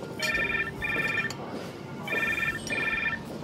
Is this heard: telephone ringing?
yes